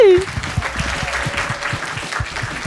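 Audience applause for comedian Emna Achour at a live French-language show, steady clapping filling the room alongside a brief whistle-like tone at the start and a faint sustained tone underneath.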